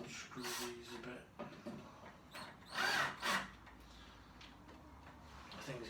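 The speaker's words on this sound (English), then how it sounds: "Maybe I can just unscrew these a bit." A power drill unscrews screws from shelving in short bursts of whirring, with quiet gaps and faint handling noises between runs.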